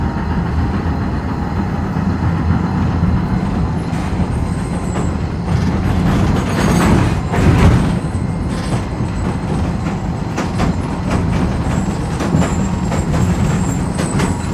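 A single-track rural tram near Arad, Romania, rumbles past nearby, with a steady rolling drone and scattered clicks and rattles from the wheels and cars swelling in the middle.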